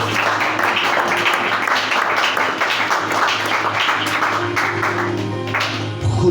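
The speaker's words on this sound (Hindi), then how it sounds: "जोरदार तालियां।" An audience at a spoken address bursts into loud, dense applause that holds steady for several seconds.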